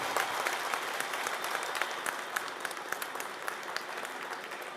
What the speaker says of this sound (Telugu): ఒక్కసారి గట్టిగా చప్పట్లతో మనకు స్వాగతం పలుకుతుంది